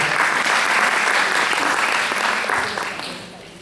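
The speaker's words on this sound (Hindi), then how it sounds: "तो एक बार उन बहनों के लिए जोरदार तालियां हो जाए।" Loud, dense applause from an indoor audience at a Holi Hindi-language community event in Houston, sustained for a few seconds before fading off toward the end.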